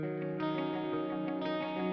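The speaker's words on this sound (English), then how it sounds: "love the drip on the spring reverb on that palm mute part" Palm-muted electric guitar chugs through a Walrus Audio Bellwether pedal with a dripping spring reverb, sustained ringing chords washing into a dense, effects-heavy tail that stays loud and steady throughout.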